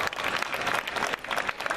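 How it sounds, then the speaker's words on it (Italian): Audience applause at the Canta Bozzolo 2016 singing event, a dense, steady burst of many hands clapping throughout, close and fairly loud with crowd noise mixed in. "Un applauso"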